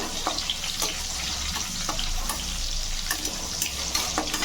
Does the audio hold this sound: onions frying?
yes